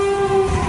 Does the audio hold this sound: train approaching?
yes